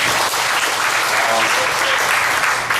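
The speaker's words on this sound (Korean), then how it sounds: "우리 미래가 되고 있는 우리 친구들에게 응원의 박수 한번 주시고" Church congregation applauding the young people during a Sunday school teachers' service, a dense, steady wash of clapping that fills the whole stretch at even loudness.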